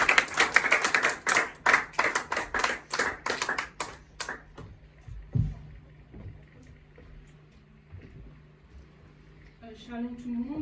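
A church congregation claps to acclaim the Lord, a burst of crisp, dense applause that thins out over several seconds and fades, with a few scattered claps and some voices afterward.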